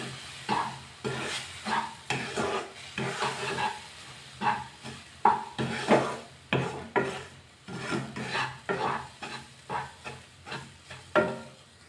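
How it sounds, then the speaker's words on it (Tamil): Carrot juice being stirred into roasted rava (semolina) in a pan for carrot rava laddu, a steady run of close, rhythmic scraping and stirring strokes with soft sizzle, no talking. "இப்போ நல்லா நம்ம மிக்ஸ் பண்ணிடலாம்"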